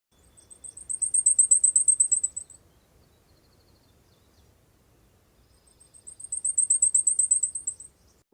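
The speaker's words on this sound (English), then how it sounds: "So blackpoll is a really common bird, but they don't show up until late. And they are high and thin as well." Blackpoll warbler song, a very high, thin, fast series of rapid ticking notes, sounded twice in bursts of about two seconds each with quiet between, alone and fairly clear.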